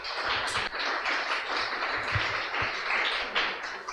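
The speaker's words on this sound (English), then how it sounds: "Let's clap for her." An audience applauds at a live special session for nurses, a dense, steady wash of clapping from many hands, loud and sustained with no voices over it.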